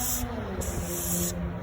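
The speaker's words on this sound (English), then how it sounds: "Just some heavy duty oven cleaner. Clean up these valve covers" Heavy duty oven cleaner sprayed from an aerosol can onto engine valve covers, two steady hissing bursts close by with a short pause between them.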